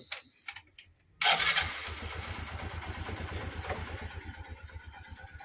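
A motorcycle engine cranks and catches with a sudden roar, then settles into a steady, close, throbbing idle.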